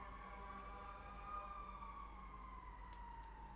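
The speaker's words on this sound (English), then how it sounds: "Sorry about the sirens in the background" A siren, like that of a fire truck, wails steadily in the distance with a slowly falling pitch, faint and continuous behind a low background hum.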